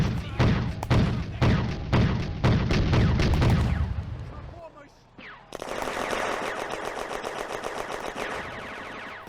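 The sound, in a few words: Sd.Kfz. 231 armoured car machine-gun suppressing fire, video game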